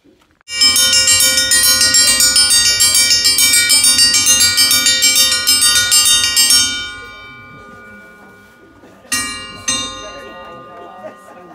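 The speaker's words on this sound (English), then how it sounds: "That's the breakfast bell." A hand bell rings loud and steady for breakfast at a hiker hostel on the Appalachian Trail, clanging continuously for several seconds, then fading before two shorter rings.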